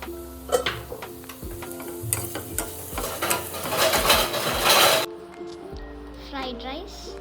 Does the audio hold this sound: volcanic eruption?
no